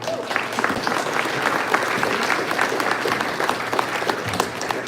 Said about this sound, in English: Please, ladies and gentlemen, a round of applause